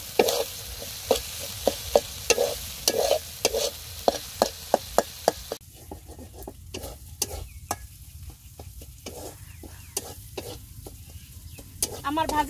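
A spoon scrapes and stirs a leafy vegetable bhaji frying in oil in a pan, its bottom starting to stick, in a run of sharp, evenly spaced strokes over a steady sizzle that softens partway through.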